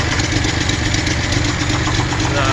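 A 1972 Citroen SM barn find, stored for 22 years, idles steadily after a first start on rebuilt carburetors, a continuous mid-pitched engine drone with faint knocking, close and loud with no talk.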